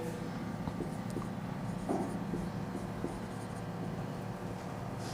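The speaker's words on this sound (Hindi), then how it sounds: "पहला हेडिंग लगा के लिखेंगे" Pen writing on paper, a quiet scratching with short strokes and pauses, close up under a steady low background hum, with no talk during it.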